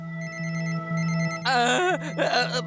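A mobile phone rings with a repeated electronic telephone-bell tone, loud and close, then shifts into a warbling melodic ringtone pattern in bursts.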